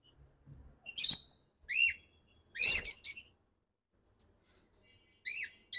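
Pet birds kept indoors burst into loud, shrill whistling calls and chirps in several sharp clusters, separated by short quiet gaps, close by with no talking.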